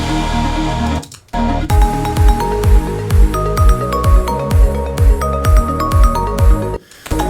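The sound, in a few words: bass sound processed with Pro-Q, soft clipper, low pass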